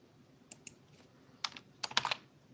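A computer keyboard is typed on to write a message, producing sparse clusters of quiet, close key clicks in short irregular bursts.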